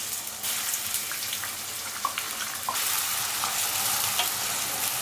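Spicy beef talawa gosht gravy reducing in a pan over high heat, with continuous sizzling and bubbling plus a few light scrapes and clinks of stirring, no voices.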